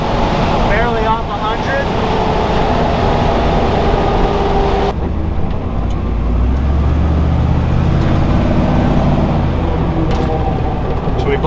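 A Toyota FJ45 engine runs under load while driving, its loud, steady rumble filling the cabin and shifting in pitch partway through as gears change, with people talking over it.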